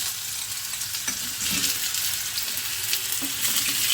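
Mango pieces drop into hot oil with scorched cumin seeds in a pan on high flame, giving off a steady loud sizzle and crackle with a few scraping stirs partway through.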